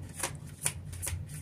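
Tarot cards are shuffled close by in three quick riffling bursts over a soft low background hum, with no talk.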